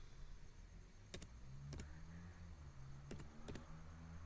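Computer keyboard keys tapped during Excel work, a few soft clicks in two small pairs, close but quiet over a faint hum of room noise.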